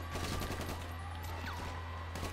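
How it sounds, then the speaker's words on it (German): Gunfire in GTA V Online, a steady stream of dense shots with a continuous low hum underneath, rattling on without pause across the whole stretch. "Ich hab ihm gerade in den Schritt geschossen."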